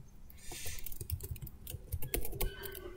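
Quick, light tapping on a computer keyboard, irregular bursts of keystrokes heard close and fairly quiet, with no talking.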